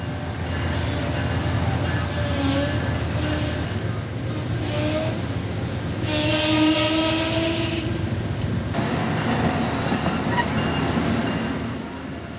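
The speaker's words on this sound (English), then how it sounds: "train 93 pulling into a very steady stop on track number 2" An Amtrak Northeast Regional passenger train pulls into a station stop on track 2 at Ashland, Virginia, with a continuous rolling rumble, loud high-pitched wheel squeals and brake screeches building as it slows, heard close and without talk.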